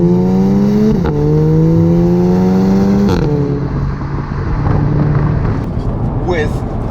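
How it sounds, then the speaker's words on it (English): Audi S3 Sportback with its standard four-tip factory exhaust revving and running up through DSG gearshifts, loud and close, each shift cut by a sharp blat or crackle as the engine pitch drops; a voice is faintly audible in the background. "With the obligatory DSG fart."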